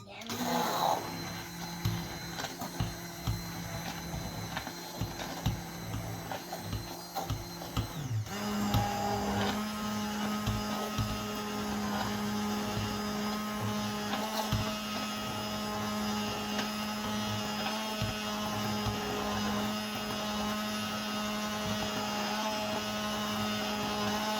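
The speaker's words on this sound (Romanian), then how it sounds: "luăm un blender să le mărunțim și vom face jeleu de căpșuni" A blender chopping strawberries whirs with a grinding, rattling motor, then shifts after several seconds to a steadier high-pitched hum that runs on continuously; a voice speaks over it.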